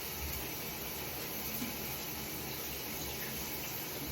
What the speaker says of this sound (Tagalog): you're liking the shower